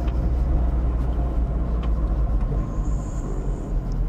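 A car in town traffic in Juvisy-sur-Orge pulls away after stopping at a priority-to-the-right intersection, its engine a steady close rumble throughout with no one talking.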